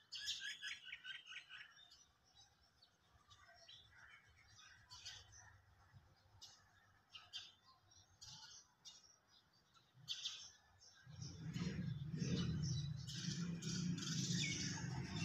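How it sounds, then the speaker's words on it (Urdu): Birds perched in village trees chirp and tweet in scattered, fairly distant calls over faint ambience, and a louder low rumble of wind or traffic rises near the end. "ان درختوں میں پرندے بیٹھتے ہیں، ان کی آوازیں آپ سنیں."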